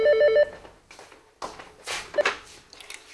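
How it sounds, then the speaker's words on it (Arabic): A telephone bell rings in a Moroccan drama, a short harmonic burst at the start, followed by quieter household clatter and footsteps-like knocks with no talk. "اجي ردي على التليفون بنتي"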